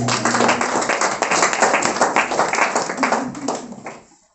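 Church congregation at a Pentecostal service clapping hands to acclaim the Lord, a dense, steady crowd applause filling the room for about four seconds before fading out, with voices mixed in underneath.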